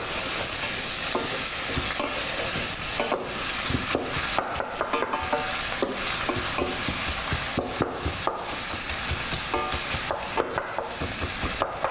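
Food fries in oil in a pan with a dense, loud, continuous sizzle, punctuated by frequent scraping and stirring clicks, with no talking over it.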